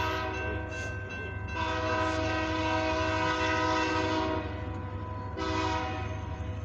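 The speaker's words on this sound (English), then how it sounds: "Can you hear the roar of the CFE train?" A CFE mixed freight train rumbles past a railroad crossing, its loud, steady roar heavy with low drone and sustained tonal horn and crossing-signal notes that swell and fade.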